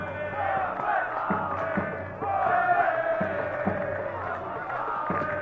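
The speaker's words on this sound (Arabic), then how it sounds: "موصل موصل موصل، تسمع صيحات الجماهير." Football fans at Duhok stadium chant "Mosul" in unison during a Mosul versus Naft Maysan Iraqi league match, a loud rhythmic crowd roar with steady repeated beats.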